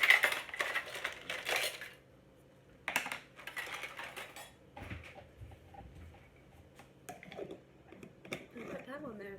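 Clean metal jar lids clattering and clinking as one is pulled from a basket of lids while making homemade dill pickles, a few bursts of rattling followed by quieter handling sounds nearby, with a voice speaking.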